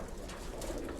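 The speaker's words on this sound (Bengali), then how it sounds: "এই যে আমাদের কবুতরগুলো" Pigeons coo softly in a loft, a faint low murmuring burble heard briefly and at a distance.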